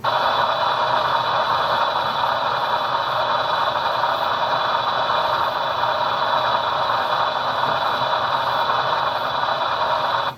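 A BLI AC6000 model locomotive with its sound system on gives a steady, loud mechanical drone with a bright hiss and faint clatter, running evenly and uninterrupted with no talking.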